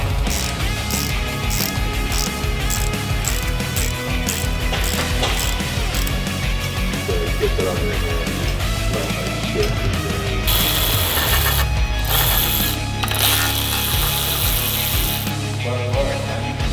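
A ratchet working on rear differential cover bolts of a Duramax truck in a shop: steady rapid clicking and mechanical rattling, close and continuous, with a sharper metallic stretch near the end.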